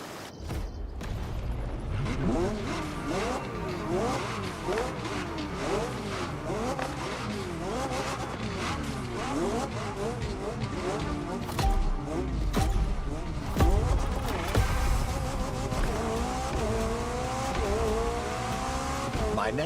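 A McLaren Elva's engine revs up and down through gear changes with squealing tires in the racing game The Crew Motorfest, with a voice speaking now and then over the game sound.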